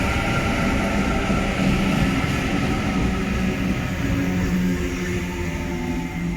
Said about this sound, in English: This train's going into Clyde.